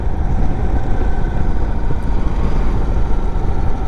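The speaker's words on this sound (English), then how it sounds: "Man, what a great day to be on a motorcycle." An Indian Sport Chief cruiser motorcycle on a demo ride, with a steady, loud engine rumble and wind noise that hold constant from start to end, and no talking.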